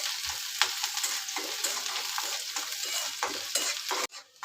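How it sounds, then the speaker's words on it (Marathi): Onion and curry leaves fry in hot oil and are stirred, a steady close sizzle with scraping strokes from a spoon, cooking for a Marathi amti. "इथे मी कांदा घातला आणि कढीपत्ता. हे आता परतून घ्यायचं चांगलं."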